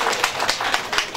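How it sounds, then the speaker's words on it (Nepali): An audience at a market management committee general assembly claps together to approve reports, dense rhythmic applause that stays steady and fairly loud through the brief moment. "ताली बजाउनु होला"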